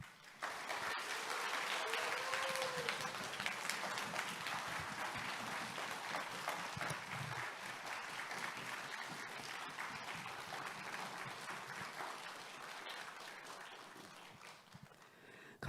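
A church congregation at a revival service applauds and cheers to welcome the pastor, with dense, steady clapping and some voices. It fills the room continuously for about fifteen seconds and then thins out toward the end.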